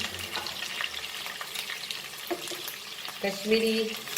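Mutton pieces for rogan josh fry in a pan, a steady, moderately loud sizzle with intermittent stirring clatter, building slightly near the end; no speech over it.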